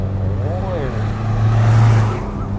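A 2021 Ford Ranger FX4 MAX turbo pickup pulls hard from a launch, its engine drone steady and loud from inside the cab and swelling toward the middle before easing, while a person talks over it.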